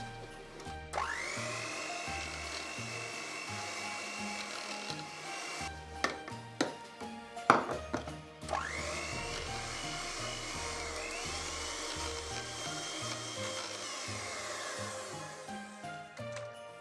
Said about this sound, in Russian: 200 мл хорошо охлажденных сливок я взобью со столовой ложкой сахарной пудры.